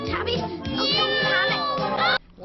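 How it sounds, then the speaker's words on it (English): Cartoonish cat meow sound effect from the film The Worst Witch, a stretched, wavering yowl that fills most of the moment and cuts off abruptly near the end. "My favorite thing about the cat is the sound effects"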